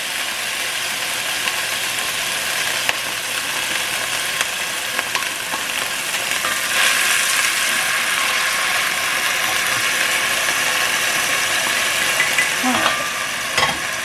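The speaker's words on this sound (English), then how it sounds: "Let that saute in the pot." Chopped carrot, onion and celery sauteing in a pot for short ribs, giving a steady broadband sizzle with faint stirring clatter throughout, and a brief spoken remark near the start.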